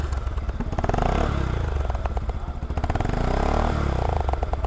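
A 2023 Bajaj Pulsar DD ABS motorcycle runs close by with a steady, rhythmic putter. Its engine note swells and eases slightly over the few seconds, and no one is talking.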